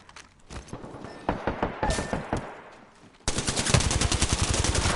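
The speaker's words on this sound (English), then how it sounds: "I got sniped at from up there." Shots ring out in the battle-royale game Apex Legends, starting as separate sharp cracks and turning into a loud, steady rapid-fire burst after a brief lull.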